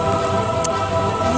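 Rain falls steadily during a nature walk at Bukit Brown, a constant close hiss with one brief sharp tick partway through and no talking.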